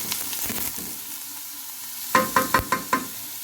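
Chopped onions fry in a pan for Fassi-style chicken, a soft steady sizzle broken by several sharp stirring scrapes near the end, with no talk.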